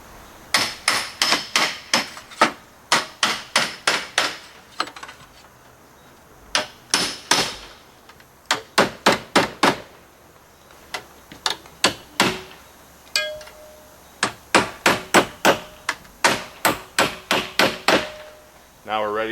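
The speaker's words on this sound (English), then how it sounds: "It's just a chisel, basically." Hammer blows on a chisel working slate roofing, heard as close, sharp, ringing taps in quick rhythmic runs of several strikes separated by short pauses.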